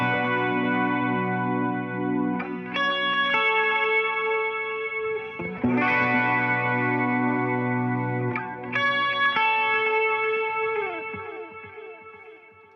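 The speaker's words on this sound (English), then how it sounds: "I created an ambient patch next to that because sometimes it's fun on intros" Ambient electric guitar patch on a Fender Tone Master Pro, with shimmering, chorus-washed chords and echoing single notes that ring out and swell, several new strums blooming over long reverberant tails before slowly fading.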